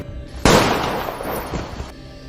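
A burst of gunfire from a narrated story hits suddenly, loud and close, then rattles on in quick cracks for about a second and a half before cutting off.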